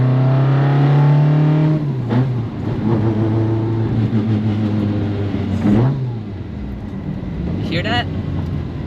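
Toyota Sprinter Trueno AE86 with individual throttle bodies, its engine held at a steady, loud drone and then revved in sharp blips, with a voice talking over it.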